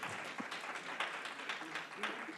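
An audience at a Champaign County Board meeting applauds in a steady wash of clapping from many hands in a large room, with voices faintly mixed in.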